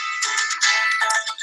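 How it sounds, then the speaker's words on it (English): Phone ringing alone in a quiet room, a bright electronic ringtone pattern held steadily for over a second with no talk over it. "Hold on, my phone is ringing."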